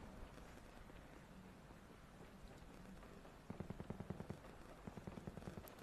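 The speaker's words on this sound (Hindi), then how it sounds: "गोलियां चल रही हैं भाई, गोलियां।" Gunfire in the video game Call of Duty: steady background ambience gives way, about halfway through, to rapid, repeated bursts of automatic shots that stay fairly loud until the end.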